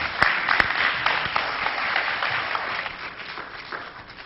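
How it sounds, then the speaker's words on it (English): An audience at a Morehouse College event claps in a steady, moderately dense round of applause that stays even and slowly tapers off, with no talking over it. "Let's give them a round of applause for them."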